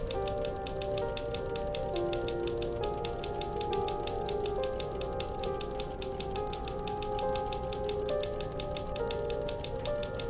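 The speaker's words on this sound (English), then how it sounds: "And he probably stayed up all night on the typewriter." Rapid, steady typewriter key strikes tap out continuously in the video game The Novelist, evenly spaced clacks over a soft musical drone, with no voices.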